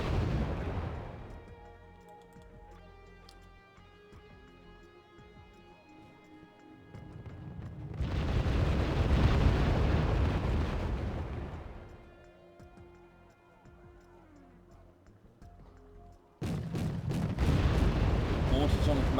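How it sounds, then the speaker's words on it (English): Mortar fire striking commandos in the video game Wargame Red Dragon, with several heavy booming impacts and explosions separated by quieter stretches of ticking battle noise. "Mortars on the commandos, once again fantastic hits."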